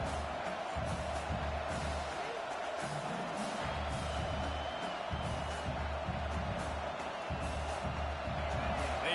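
Stadium crowd at a football game, a steady loud roar of many voices throughout, with faint cheering and commentators talking over it.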